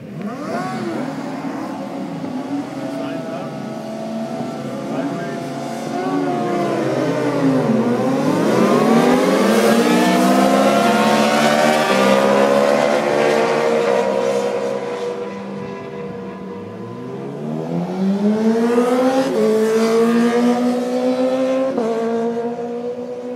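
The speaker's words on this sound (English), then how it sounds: "So we decided to visit the motorcycle track before we went home." Motorcycles race around a motorcycle track at Fontana, engines loud and close, pitch rising and falling in long sweeping passes as bikes accelerate and shift, continuous with no talk.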